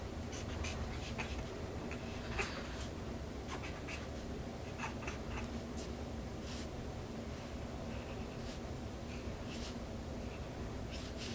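A pen sketches on paper in close, continuous scratching strokes with brief pauses, soft and steady over a quiet room.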